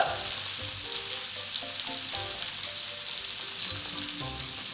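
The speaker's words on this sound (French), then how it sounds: "mettre nos têtes d'asperges comme ceci dans la poêle" Asparagus tips searing cut-side down in a frying pan over fairly high heat, a loud continuous sizzle and crackle with occasional light spatula movements, close and without speech.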